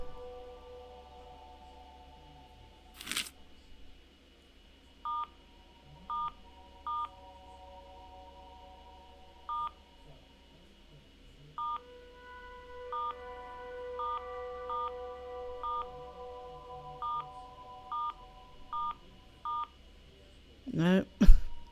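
Phone dialing tones in the video game Your House: a sharp beep, then a long sequence of evenly spaced short electronic keypad tones in two clusters, over a faint background hum, ending in a louder burst.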